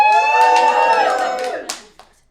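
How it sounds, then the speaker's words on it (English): A handful of people at a Christmas quiz game give a short, loud, drawn-out vocal cheer that fades away, followed by a couple of faint claps. "Give us a cheer if you think that is false."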